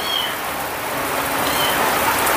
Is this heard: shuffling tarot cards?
no